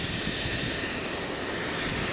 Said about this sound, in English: Eastern Airways Jetstream 41